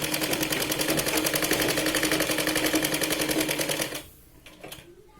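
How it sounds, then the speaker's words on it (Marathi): A sewing machine runs a steady, fast, even stitch as it double-stitches a Punjabi dress from the back panel, then stops abruptly after about four seconds, leaving faint handling noises. "आपण डबल शिलाई लावतोय पाठीमागच्या पार्ट पासून"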